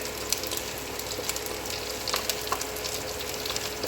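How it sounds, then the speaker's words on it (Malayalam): Ginger and garlic frying in hot oil for a green chili pickle, a continuous close sizzle with small crackles and occasional stirring clinks, no talking. "ഞാൻ ഇഞ്ചിയും വെളുത്തുള്ളി ഇട്ട് നല്ലപോലെ ഒന്ന് മൂക്കും"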